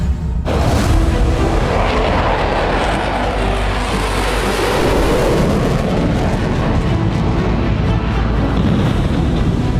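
Bombardment and a sonic boom on the Lebanon border in the Israel–Hezbollah fighting: a loud, continuous thundering roar bursts in abruptly and rumbles on without letup, heavy in the low end, with no talking.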